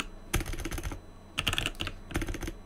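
Quick bursts of keystrokes rattle on a computer keyboard as a command is typed into an Ubuntu server terminal, three close clusters of rapid clicking with brief gaps between.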